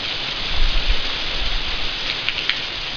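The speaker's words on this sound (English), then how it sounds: "really funny about this rain is when I got up to the shop here earlier this evening" Steady rain falls outside a workshop in the evening, a loud continuous hiss with a low rumble underneath and no voices.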